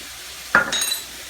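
Soy sauce and rice wine vinegar hit a hot pan and give a sudden, close sizzle that flares, dips, then hisses again briefly before fading, about half a second long.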